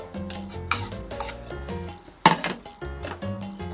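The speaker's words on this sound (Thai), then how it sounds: "จะคลุกเคล้าให้เข้ากัน" A Thai mackerel and neem salad is tossed in a bowl, with close, soft rubbing and mixing sounds and a couple of sharper utensil clinks against the dish. No one speaks.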